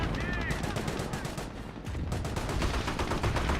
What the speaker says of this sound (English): Panzer Grenadiers here, those are firing a Panzerfaust, does connect with the Greyhound.